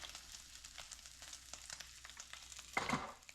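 Bacon sizzles and crackles steadily while frying in a pan turned down to lower heat, a dense continuous hiss with small pops, and a brief louder burst of spatter near the end.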